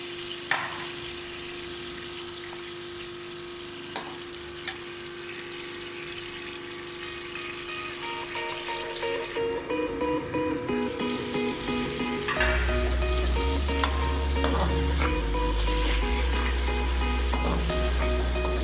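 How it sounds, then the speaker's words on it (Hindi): Tomato masala frying and being stirred in a pan, with a steady sizzle and repeated scraping strokes that grow louder and busier after a splash of water is added, close up and with no talking. "तब तक भूनेंगे जब तक हमारे टमाटर सॉफ्ट नहीं हो जाते।"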